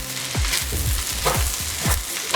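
Spices with about a teaspoon of cumin sizzle in a hot pan, a steady close fry broken by several quick scraping, tossing strokes as they are stirred, with no voices.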